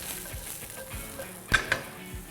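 Mushrooms and onions tossed in a frying pan with browned garlic, a soft steady sizzle broken by a few quick scraping stirs and light clanks of the pan, with no voices.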